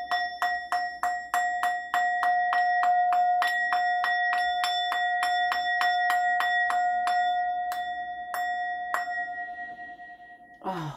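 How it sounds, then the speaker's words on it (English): A small bell rung rapidly and repeatedly to clear energy, bright sustained tones ringing close and clear, the strikes slowing toward the end and leaving a lingering shimmer before a brief rustle. "Let's just ring the bell before I go."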